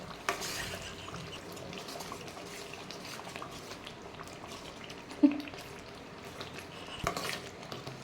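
Garlic kuzhambu bubbling and simmering in a pan as oil separates on top, a soft, steady boiling hiss with a few faint pops, close and quiet, no voices.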